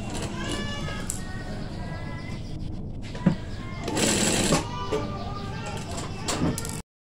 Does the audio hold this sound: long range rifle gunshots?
no